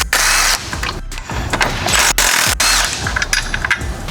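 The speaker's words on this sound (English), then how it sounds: "I'm going to remove the brake caliper mounts, 15 millimeter socket." Ratchet with a 15 mm socket working loose the brake caliper mounts on a Can-Am X3, a steady busy run of loud clicking and mechanical clatter close up, broken by a few short pauses.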